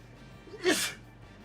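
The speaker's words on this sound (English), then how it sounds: "I'm gonna sneeze." A single sharp sneeze bursts out loudly, a short explosive burst of breath standing alone against a quiet background.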